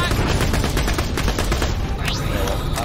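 Dense, rapid automatic gunfire from the shooter Borderlands: The Pre-Sequel, loud and continuous for the whole stretch, with overlapping shots and no pause.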